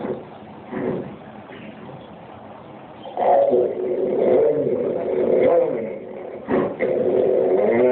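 A beatboxer's voice imitates a motocross bike passing, a revving, whirring engine-like drone that swells from a distance and sweeps close, rising and falling over several seconds with a brief break near the end.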